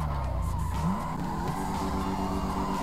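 A car drifts in the FiveM video game, its tires squealing in a long sustained skid over a droning engine, the squeal bending in pitch as the car slides.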